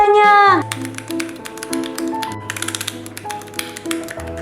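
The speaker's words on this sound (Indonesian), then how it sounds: "dengan suara keyboard ini aja udah bikin aku puas" Rapid clacking of a Keychron mechanical keyboard with brown switches in uneven bursts, close up, with a voice briefly at the start and a low tone beneath.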